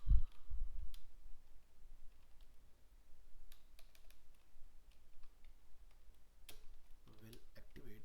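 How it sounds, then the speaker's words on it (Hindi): Clicks on a computer keyboard, scattered sharp taps coming singly and in short bursts over several seconds, close and fairly quiet against a low background hum. "सो आपने F12 प्रेस करना है ऑन योर कीबोर्ड."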